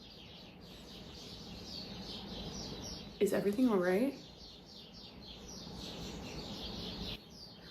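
Birds chirp outside in a brief loud burst of tweeting calls over a faint background, while a person talks indoors.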